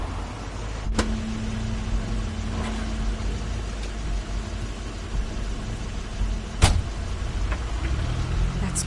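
Car engine in a video game, steady low rumble with a brief higher tone, a couple of sharp clicks or thumps, fairly loud with no talk.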